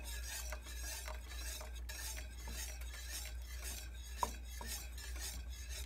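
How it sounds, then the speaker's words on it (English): Thickener whisked into hot liquid for a vegetarian gravy, making a continuous quick scraping, rasping swirl of a whisk against a pot, close and fairly quiet, with a single brief clink partway through. "slowly pour it into your hot liquid that you have and whisk it in as you do, just like this"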